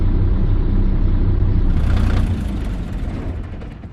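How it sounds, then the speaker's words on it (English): A Paradiso LDT G7 8x2 bus engine in Euro Truck Simulator 2 runs with a loud, steady low rumble and whir, easing slightly quieter partway through. "we'll turn that engine off again and have a listen"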